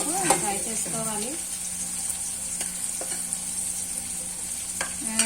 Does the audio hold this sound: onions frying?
yes